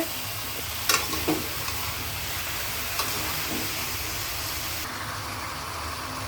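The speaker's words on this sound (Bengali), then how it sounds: "আসলে মশলাটা যত কষানো ভালো হয়, রান্নাটা খেতে সুন্দর হয়।" Spice paste fried with pumpkin for hilsa-head curry: a loud, steady hissing sizzle fills the whole stretch, with a few faint utensil knocks near the start, no talk.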